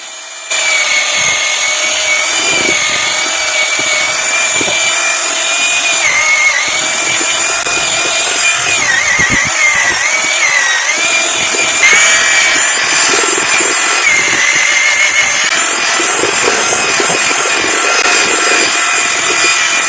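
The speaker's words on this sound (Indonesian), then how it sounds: "Langkah selanjutnya kita bor menggunakan bor ya. Yang baling-balingnya itu agak besar." A loud, steady power drill with a large mixing paddle whirring continuously for the whole stretch, its motor pitch wavering slightly as it churns.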